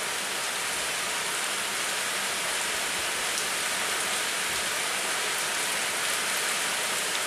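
Steady rain falls outdoors where pigeons sit on high perches, a dense, even hiss of drops on surfaces that holds at a constant level throughout, with no voices.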